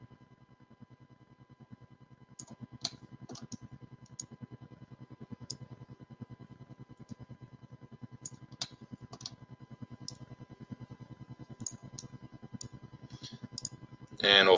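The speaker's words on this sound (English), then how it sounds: "we'll finish just by clicking on the first point on the line" A computer mouse clicks repeatedly while drawing spline points in 3Shape Implant Studio dental software, the sharp, close single clicks spaced irregularly over a quiet background with a low buzzing hum.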